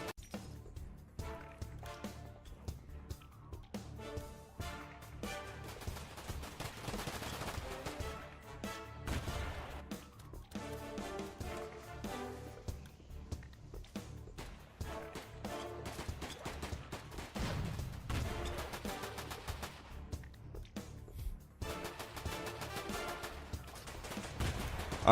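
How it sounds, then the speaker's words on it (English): Players in DayZ shoot at each other, scattered gunfire cracking and rattling in uneven bursts across a busy, moderately quiet mix, with occasional crashes and no steady rhythm. "It's just everybody running around and shooting each other."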